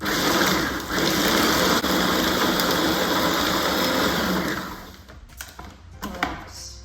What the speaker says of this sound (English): just keep pulsing that or mixing it, depending on your settings